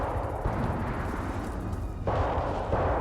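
Heavy rumbling gunfire in the game Hell is Us, dense booming bursts that swell and surge continuously with a loud low-end roar and no voices.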